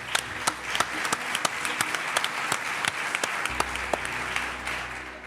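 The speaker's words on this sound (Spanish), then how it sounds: "Un aplauso para él, por favor." Studio audience applauds to welcome a guest on a television show about unexplained cases, a steady, dense round of clapping with sharp individual claps standing out, holding at an even level throughout.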